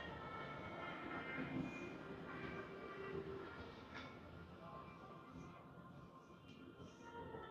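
Epcot monorail rolling past at moderate distance, a steady broadband rumble with faint rail clatter amid park crowd ambience.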